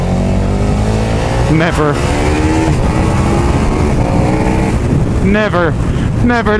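A 2020 KTM Super Duke R engine roars loudly as it accelerates on a test ride, heavy wind buffeting the microphone, with rising engine pitch sweeps and a rider talking over it.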